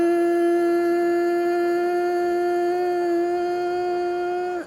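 Bumblebee breathing exercise, a hummed buzzing exhale: one sustained, close, steady nasal hum lasting over four seconds at an even pitch and loudness before stopping, alone without talk.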